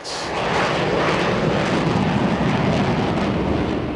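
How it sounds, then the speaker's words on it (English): A supersonic Concorde jet roars in a steady, loud, broadband rush that swells in within the first half second and then holds without a break. "The supersonic Concorde jet roars into service for the first time"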